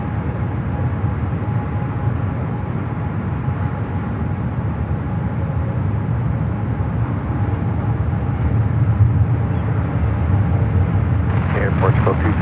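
A Boeing 777 airliner in Star Alliance livery taxis toward runway 28 Left at San Francisco airport, a steady broad jet engine rumble and whine held throughout, with a brief clattering burst near the end.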